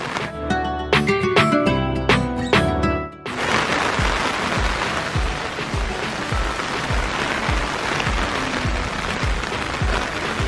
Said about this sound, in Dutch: Het regent echt heel hard.